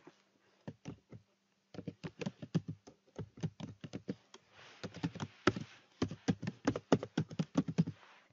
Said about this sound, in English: first of all, type in your email address.